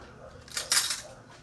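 A spoon pulled from a pile of cutlery in a home kitchen while making macaroni salad, one brief bright metallic clatter and jingle, close and clear, with no talk over it.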